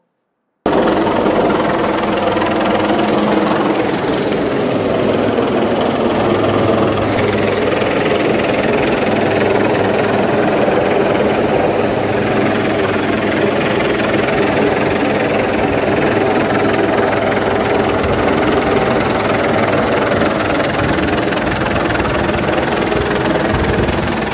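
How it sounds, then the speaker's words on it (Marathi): A Coast Guard rescue helicopter over the sea off Purnagad drones loudly and continuously, its rotor thumping under a steady engine roar that stays close throughout. "कोस्ट गार्डच्या अधिकाऱ्यांनी खलाशांच्या रेस्क्यूसाठी हेलिकॉप्टर रवाना केले"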